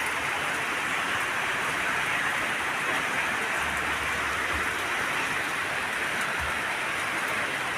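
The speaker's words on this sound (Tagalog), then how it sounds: "Patuloy pa rin po ang ulan." Heavy rain pours steadily on Christmas, a dense even hiss with no pauses, close and loud, no voices.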